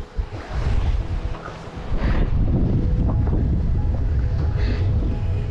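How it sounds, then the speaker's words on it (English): Strong wind on a hilltop along a dirt road near San José del Cabo, Mexico, roars and buffets loudly against the microphone in a constant, heavy rumble with no voices. "Well, the wind's strong now."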